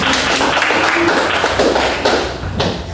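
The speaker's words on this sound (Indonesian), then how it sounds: "beri tepuk tangan" A classroom of students claps their hands together, a dense patter of quick overlapping claps that carries on steadily for a few seconds.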